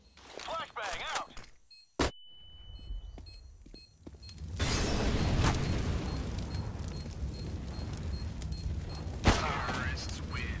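A sharp bang from a Counter-Strike flashbang grenade is followed by a long ringing, roaring wash that swells and lingers, loud and close, after brief voices at the start.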